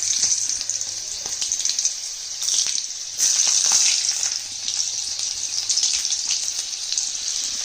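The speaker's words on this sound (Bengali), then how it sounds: "তেলটা খুব ভালো গরম হয়ে গেছে। এই পর্যায়ে সব থেকে আমি দিয়ে দিলাম রসুনের টুকরো কটা।" Garlic pieces fry in very hot oil with a bright, continuous crackling sizzle that swells in bursts, while occasional scraping clicks of stirring sound close by.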